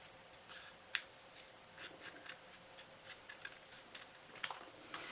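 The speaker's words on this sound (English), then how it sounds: "So I'm just going to cut like little pieces." Scissors snipping small paper pieces for a Christmas elf gift box: quiet, irregular clicks and snips scattered over a few seconds, close by, without speech.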